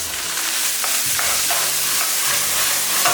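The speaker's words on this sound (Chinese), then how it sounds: "翻炒均匀，看起来有味" Vegetables with minced pork and garlic are stir-fried in a hot wok, a loud, continuous sizzle broken by scraping spatula tosses, close up and with no voices.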